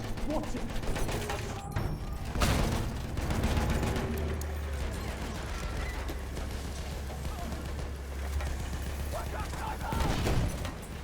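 Battlefield 1 video game combat fills the scene with continuous background gunfire, scattered rifle shots and mechanical clatter under a steady low rumble, with someone talking over it.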